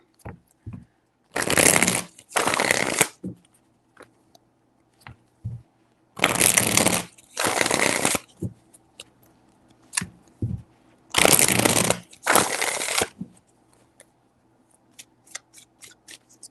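Tarot cards shuffled close by in three separate rounds, each a pair of quick riffling bursts, with quiet pauses in between and no talking.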